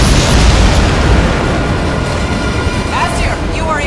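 Missile launch and blast in the Crysis 2 Remastered shooter: a dense, loud, sustained roar of explosion and rumble filling the whole span, with faint voices mixed under the blast.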